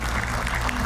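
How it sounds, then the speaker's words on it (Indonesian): A studio audience on an Indonesian political talk show applauds, a dense, close wash of clapping with a faint crowd murmur underneath. "Kita berikan tepuk tangan Bung Refli Harun."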